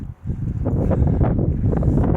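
Gusty wind in the Phrygian Valley, Turkey, buffets the microphone with loud, rumbling low noise that rises and falls over a couple of seconds.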